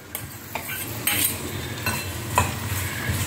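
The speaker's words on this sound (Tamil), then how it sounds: "தக்காளியும் சேர்த்து போட்டு வதக்கலாம்னு" Onion and tomato sauté in a pan for a coconut chutney, giving a soft continuous sizzle broken by repeated scrapes and clinks of a spoon stirring against the metal, close by and without talk.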